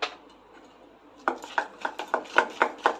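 Palm fritter batter for taler fulori being beaten by hand in a bowl, a quick series of light clinking, slapping strokes, close by, with no talk.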